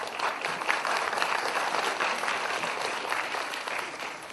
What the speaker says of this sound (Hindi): और वो ताली आप लोग बजाइए जरा।